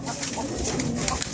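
Kalshira pigeons coo in a pigeon loft among other fancy breeds, with soft, repeated murmuring calls under steady broadband background noise and a faint voice.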